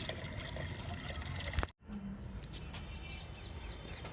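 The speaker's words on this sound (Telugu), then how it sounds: "ఇప్పుడు ఈ లిక్విడ్ని పండ్ల మొక్కలకి ఇచ్చేద్దాము" Liquid fertilizer poured onto fruit plants such as a lemon plant, a steady close trickle and splash of liquid that breaks off briefly partway and then resumes.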